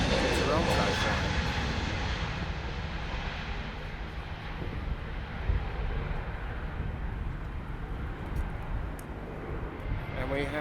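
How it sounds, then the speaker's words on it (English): An Air Transat Airbus A321neo jet on the Amsterdam to Toronto flight rumbles steadily at Schiphol Airport, a broad continuous engine roar spanning the whole stretch with a faint voice underneath. "That's Air Transat's A321 Neo, and that is the Amsterdam to Toronto flight"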